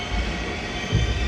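Inside a train station in Germany, a train rolls past with a continuous low rumble of wheels and carriages, swelling slightly toward the end of the short stretch.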